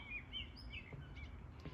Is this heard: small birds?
yes